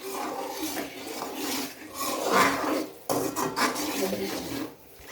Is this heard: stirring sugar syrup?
yes